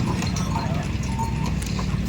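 Bullock cart rolling along a village road, the bullocks' hooves clip-clopping in a steady rhythm under a low rumbling of the cart, with people talking nearby.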